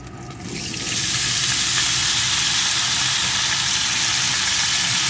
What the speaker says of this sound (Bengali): আলুগুলোকে একটু ভেজে নিয়েছি এখন আমি এর ভিতরে দিয়ে দেবো দিচ্ছি কলাগুলোকে